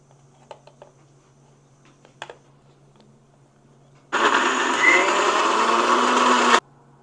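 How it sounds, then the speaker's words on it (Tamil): A mixer grinder blitzes onions in a home kitchen while mutton curry is prepared: after a few faint clicks and knocks, a loud, steady whirring roar runs for about two and a half seconds, then stops abruptly. "வெங்காயம் அரைக்கணும் மிக்சியில்"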